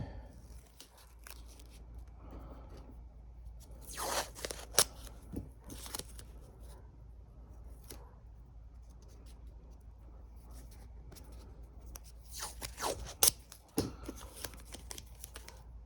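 Masking tape is pulled and torn, then pressed onto the top of a Porsche 914 in a quiet workshop, faint rips and crinkles coming in two short clusters over a low background hum.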